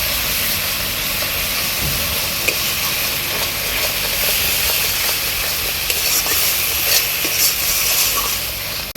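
Turmeric, cumin and coriander powders being sautéed in a pan with salted potato and green banana make a continuous loud hiss and sizzle, with faint stirring and no talk.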